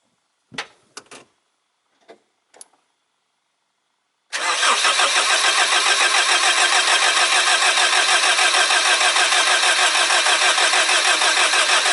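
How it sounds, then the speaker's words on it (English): A few faint clicks and taps precede a car engine cranking and catching just after a compression test, then settling into a steady, loud, even idle that runs to the end. "then I go to start this engine"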